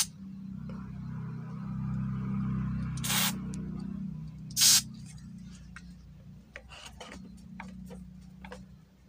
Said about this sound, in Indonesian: Sekarang bagian belakang kita semprot juga.